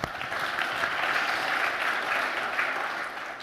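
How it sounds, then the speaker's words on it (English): A conference audience at a Microsoft Office 365 Groups session bursts into a steady round of applause, dense and sustained for several seconds with no talking over it. "How about a round of applause for Yammer?"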